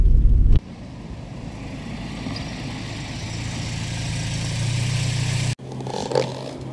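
A 1988 Porsche 944 Turbo S rolls in after a road test, its engine idling with a low steady rumble and a slight rise in revs before it cuts off abruptly, followed by faint clicks and clatter.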